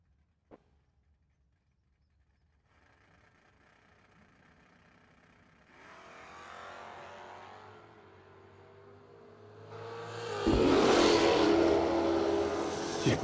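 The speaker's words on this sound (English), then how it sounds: "He's up against the Dodge Dart Swinger, piloted by Ron Hill." Drag racing cars, including a Dodge Dart Swinger, at the No Delay Nationals drag event: engines idle low, then build into a rising rev before a loud, close roar of launching cars fills the final seconds.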